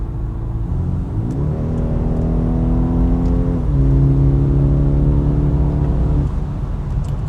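Engine of a modern BMW of roughly 250 horsepower in sport mode, heard from the driver's seat as a steady drone that climbs in pitch, drops briefly at a gear change, then pulls up again, loud and close with no speech.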